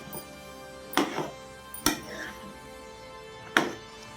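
Ridge gourd pieces are stirred into a chana dal curry in a pan, giving three sharp knocks of the spoon against the pan over a quiet background, spaced unevenly about a second apart.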